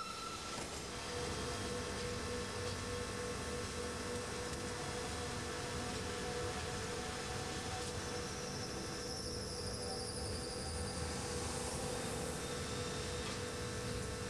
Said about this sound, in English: A Furka locomotive has been attached to the front of our train together with a restaurant car